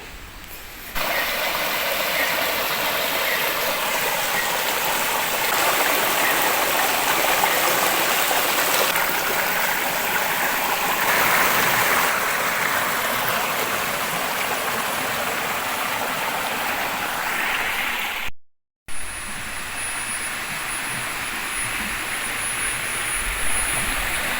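Steady broadband rush of a forest stream where several streams join, continuous and fairly loud, with a brief dropout near the end before the flow resumes.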